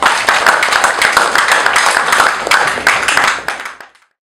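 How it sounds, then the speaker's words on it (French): A ceremony audience gives loud, dense applause that holds steady for several seconds and then quickly dies away. "Je vous demande de l'applaudir encore une fois."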